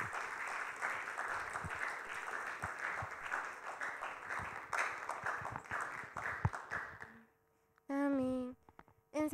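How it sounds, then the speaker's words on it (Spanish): A church congregation at a Spanish-language Sunday service applauds with loud, sustained clapping for about seven seconds, then it fades and a voice speaks. "un fuerte aplauso"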